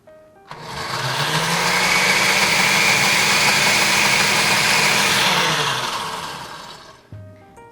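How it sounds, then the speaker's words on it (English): A kitchen blender purees piri piri sauce, spinning up to a loud, steady, high-pitched whir for several seconds before winding down and stopping, heard up close. "So it's ready to get taken to the blender."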